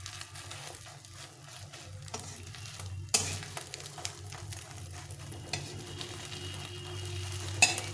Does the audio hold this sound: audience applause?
no